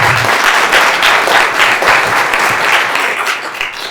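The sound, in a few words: audience round of applause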